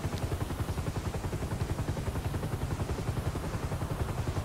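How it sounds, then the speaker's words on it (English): A helicopter in a video game drones steadily throughout, a rapid low rotor thump holding an even, fairly loud level with no voices over it. "Helicopter! Helicopter!"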